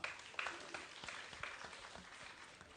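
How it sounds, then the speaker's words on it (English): A crowd at a debate event applauds, scattered clapping that starts strong and gradually thins out, fairly faint and distant. "A big round of applause to her."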